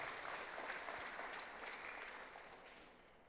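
Applause from an audience at a Quran memorization (tahfidz) graduation ceremony, a broad, fairly faint wash of clapping that holds steady and slowly fades toward the end, with no voices over it.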